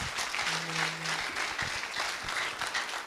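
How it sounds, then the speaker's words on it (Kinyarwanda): A church congregation claps in a short burst of dense, lively applause that lasts a few seconds, with a brief voice faintly heard beneath it. "Ubu ni mwakomera Imana amashyi koko."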